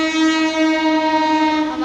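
A train horn blares at a village railway station as the train arrives, a loud sustained tone held steadily for about two seconds with no talk over it.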